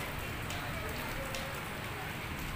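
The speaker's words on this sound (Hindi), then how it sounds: "बाहर बहुत ही ज़बरदस्त बारिश हो रही है" Heavy rain pours steadily outside a home during the rainy season, a dense continuous hiss of drops hitting surfaces with no break across the whole stretch.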